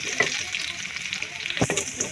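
Garlic frying in hot oil for haleem gives a steady, close sizzle with crackling spurts throughout, heard on its own with no voices.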